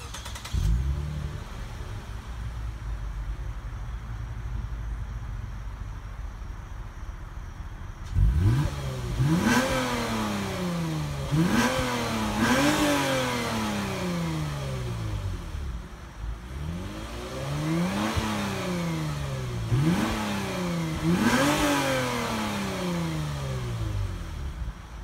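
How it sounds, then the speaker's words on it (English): A 2016 Lexus GS350 F-Sport engine cranks and catches after a quiet stretch, then revs sharply several times in rising and falling bursts, loud and close. "I think we should start it up and rev it a little bit harder than what I did in the first previous video."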